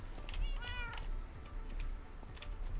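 In Minecraft, a cat lets out one distinct meow early on, followed by soft ambient game noise and light clicking, with the call standing out near and moderately loud.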